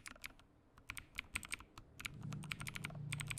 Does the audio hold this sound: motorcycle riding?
no